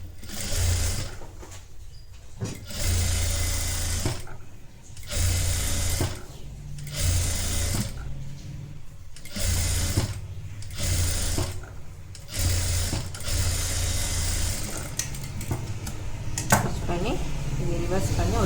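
A sewing machine runs a flat stitch on a cross-neck designer blouse, its motor whirring in repeated bursts of about a second or two, separated by short pauses, with a voice talking in between.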